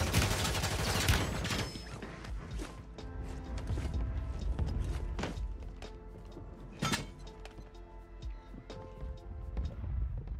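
Bursts of gunfire in the video game Warzone, sharp repeated shots rising above a quiet bed of game sounds, with clusters near the start and scattered cracks later.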